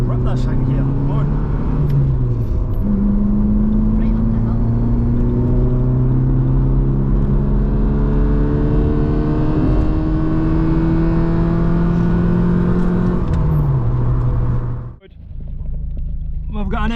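A 1.6i Vauxhall Nova from an A-reg project car revs hard. Its engine climbs in long, loud sweeps lasting most of the clip. The revs dip and rise again before cutting off abruptly, and a lower idle follows.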